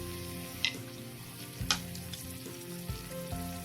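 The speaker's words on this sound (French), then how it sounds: "Je rajoute un peu d'eau pour laisser cuire la tomate concentrée." Tomato paste thinned with a little water cooks in a pan for potato soup, giving a steady, soft sizzle with a few sharp pops and light stirring clicks.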